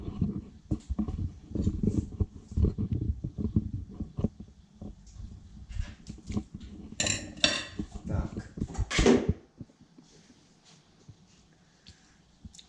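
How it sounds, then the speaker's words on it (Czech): A knife thuds and scrapes against a board in quick, uneven strokes cutting meat into portions, with a couple of clinks of metal, then it goes quiet. "Takže jenom to krájení masa."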